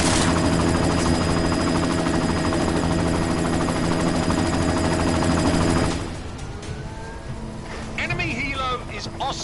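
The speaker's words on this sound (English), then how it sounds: "You've got to stop that chopper." An enemy helicopter in the Deus Ex Mankind Divided game, a loud, dense rotor roar with some gunfire that drops away partway through, leaving quieter game sounds while voices speak.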